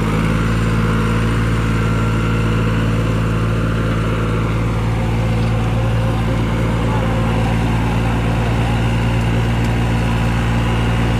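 A New Holland 5510 tractor pulls a 2021-model National Super Seeder in a field, its engine a loud, steady, low diesel drone that holds unbroken for the whole stretch.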